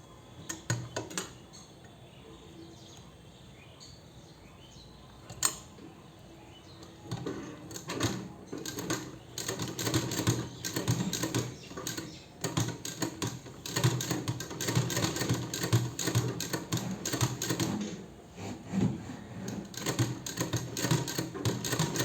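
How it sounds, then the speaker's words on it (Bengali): Sewing machine stitching a dress, fast rattling mechanical clatter in bursts that grows louder and denser after a quiet start, with brief pauses and handling knocks between runs, no speech. "ঢুকিয়ে আবার এখানে সেলাই করে দিচ্ছি।"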